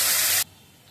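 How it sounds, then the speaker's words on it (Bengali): Green chillies hit hot oil with a sharp, loud sizzling hiss that cuts off abruptly after about half a second, leaving near quiet. "প্রথমে ফুসুর করি এই যে কাঁচা লঙ্কাটা ফেলে দিই, এটা লাল লাল করে ভাজা হোক"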